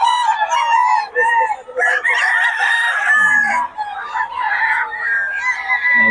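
Banded roosters at a Bocaue market crow loudly and repeatedly up close, overlapping calls and clucks crowding one another, with a voice briefly in the background.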